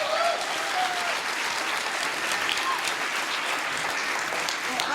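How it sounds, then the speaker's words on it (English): An audience applauds a flying captain at a live show, steady dense clapping that holds at an even level from start to finish, with faint voices mixed in. "I think a round of applause for our fantastic flying captain"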